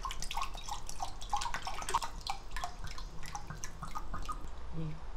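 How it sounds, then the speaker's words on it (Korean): Broth being poured into a cold cucumber pickle soup, light splashing and dripping liquid in quick irregular bursts, close and fairly soft. "이 국물을 부어줘."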